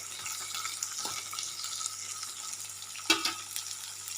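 Carrot pieces stir-fried and tossed in a hot pan with cooked rice, giving a steady close sizzle with a few sharp scraping stirs partway through.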